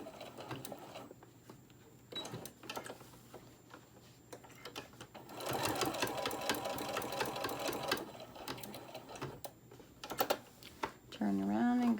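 A sewing machine stitching a small tote bag with pockets rattles in short bursts and one longer run, separated by pauses, with clicks and handling noises close by.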